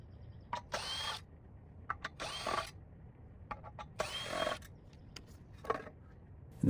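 A power drill backs screws out of an axial ECM blower motor on a Carrier rooftop unit, with four or five short whirring bursts separated by quiet gaps and small clicks of handling between them.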